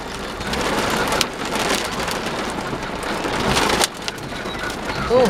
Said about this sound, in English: Oh, hailstones.